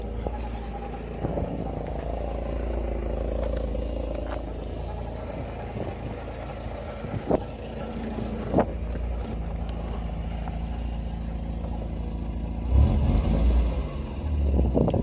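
Porsche 924 engine running steadily at idle throughout, a continuous low rumble with a few brief revs or knocks and a louder surge near the end.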